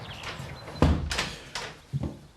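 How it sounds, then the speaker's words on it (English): A door swings and shuts with a solid thunk, followed by a couple of softer knocks and shuffles nearby, heard alone without talk. "Close the door, will you, Kelly?"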